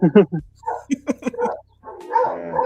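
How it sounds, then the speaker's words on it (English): A dog barks and yips several times in quick succession near a person indoors, loud short bursts followed by a whimpering, whining tone toward the end. "Who's got the dog?"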